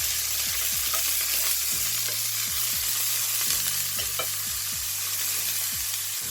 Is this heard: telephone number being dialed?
no